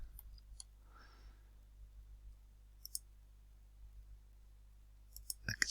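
Computer mouse clicks while working in SketchUp 2025, a few sparse, sharp, close clicks spread across a quiet stretch, with a quicker cluster near the end.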